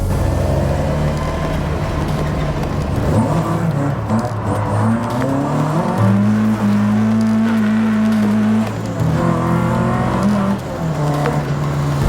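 A car is driven hard on a road run to warm its engine oil before an oil change, its engine loud and close throughout, revving and shifting through gears with rising and falling pitch.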